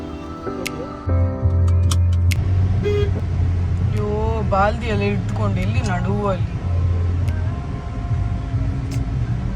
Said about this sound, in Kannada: ಇದು ಡ್ಯಾಡಿಯ ಗಾಡಿ.